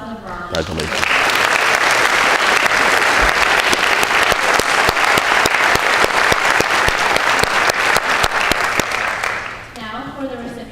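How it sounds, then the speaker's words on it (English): Audience applause at an awards ceremony for President's Volunteer Service Award bronze recipients, loud sustained clapping from a large crowd that swells in quickly and holds steady for about nine seconds before tapering off. "Give a round of applause for the bronze."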